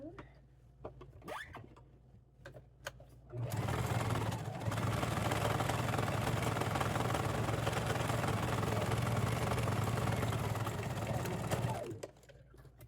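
A sewing machine stitches a fabric band onto a towel, running in a steady loud whirring hum for about eight seconds, with brief handling sounds and light talk before and after the run.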